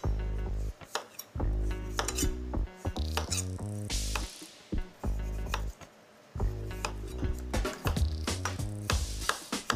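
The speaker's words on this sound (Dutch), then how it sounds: "Een paar aardappelen snijden." A knife cuts potatoes in a restaurant kitchen while preparing a blue lobster dish. Crisp, irregular chopping taps and board knocks sound close, mixed with clinks of pots, all under loud music.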